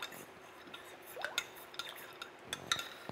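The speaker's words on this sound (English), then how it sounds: "Give that a stir." A spoon lightly clinks and scrapes around a bowl while stirring a bath truffle mixture with melted cocoa butter, quiet scattered taps over a soft background hiss.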